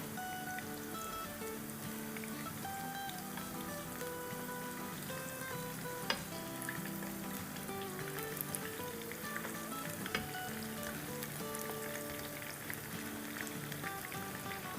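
Onion pakoras without gram flour fry in hot oil, a dense, steady crackling sizzle with scattered pops throughout, close and even, no one speaking.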